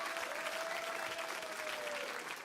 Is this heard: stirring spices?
no